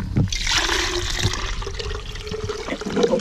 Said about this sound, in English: Here comes some water now.